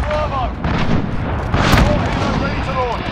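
A white phosphorus strike in Call of Duty Modern Warfare multiplayer rumbles as repeated heavy booms and crackling blasts over dense battle noise, with scattered whistling tones and radio-style voices talking.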